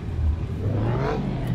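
Drag race car engine with freshly synced carbs revving in Car Mechanic 2021, one quick rising vroom that climbs steadily in pitch over about a second and a half, loud and close with no other sound.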